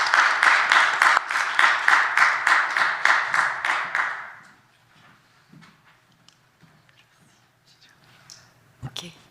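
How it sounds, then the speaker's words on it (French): Audience applause at a conference on Haitian local civil society, a steady burst of clapping for the speakers that lasts about four seconds and then fades into quiet room murmur and small noises. "des applaudissements"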